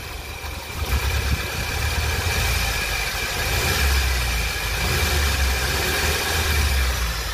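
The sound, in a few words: car engine idling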